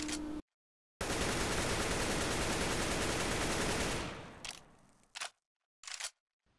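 Automatic rifle fire in Counter-Strike: Global Offensive, a controlled spray: one dense sustained burst of rapid shots lasting about three seconds, followed by a few short separate bursts, loud and close with no talk.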